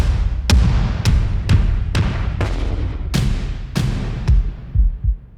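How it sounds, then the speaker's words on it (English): Medusa Drums sampled trailer percussion playing a run of very low, hard concussion hits, about ten deep booming thuds in quick succession, each with a sharp attack and short rumbling tail. "Really low, hard-hitting hits there."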